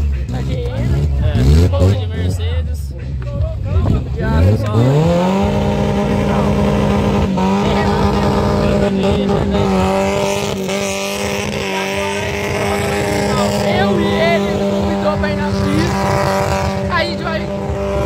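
A carbureted Chevrolet Chevette engine revs up and holds a loud rising whine close by, sustained at high pitch with people talking over it.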